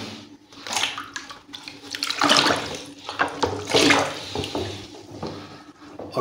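Water splashes and sloshes steadily as bird feeder and waterer dishes are dunked to soak in a basin of water mixed with Dettol liquid, close and fairly loud with uneven surges.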